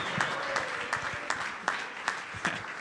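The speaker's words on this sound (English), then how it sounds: "a round of applause for him" Faint, sparse clapping from a small crowd, scattered individual claps over a low background murmur.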